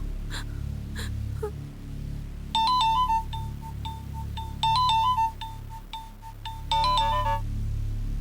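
An electronic ringback tone repeats in three short melodic bursts, spaced a couple of seconds apart, over heavy breathing and low background noise.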